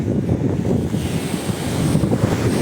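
Strong sea wind buffets the microphone on Samila Beach in Songkhla during kite flying, a steady roaring rush with surf churning underneath and no voices.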